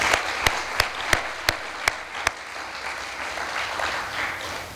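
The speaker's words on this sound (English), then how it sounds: "So let's give them all a round of applause." Applause for award recipients at a ceremony: a few sharp, evenly spaced single claps ring out first, then a soft wash of scattered crowd clapping carries on.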